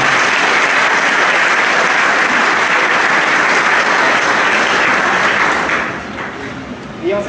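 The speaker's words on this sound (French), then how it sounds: "Nous prions d'applaudir." A church congregation at a Sunday Mass celebrating a golden jubilee bursts into loud, dense applause. It holds strong for several seconds before easing off near the end.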